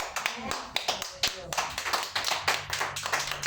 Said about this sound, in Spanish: Dale un aplauso a tu Dios